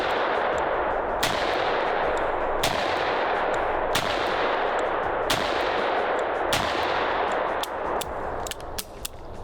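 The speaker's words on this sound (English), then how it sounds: "starting off with the 357 Magnum Colt Python" A .357 Magnum Colt Python revolver fired one-handed: about six loud, sharp shots spaced roughly a second or more apart, ringing over constant outdoor range noise, with a few quicker reports near the end.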